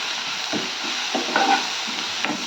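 Masala being stirred into fish curry (chepala pulusu) in a pan, giving a steady sizzle with a few soft scraping strokes of the spoon, loud and close, with no talking.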